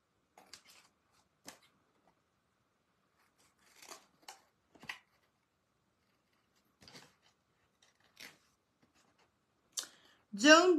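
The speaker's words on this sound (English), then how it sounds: "I am just going to cut out the house." Scissors snipping through paper to cut out a paper craft house, a handful of short isolated clicks and snips spread out in a quiet room, with a voice briefly at the end.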